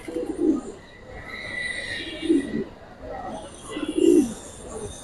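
Silver pankhi pigeons, a pair of silver-pattern birds, coo softly in three low, rolling bursts spaced a couple of seconds apart, close by, with light background murmur and faint chirping.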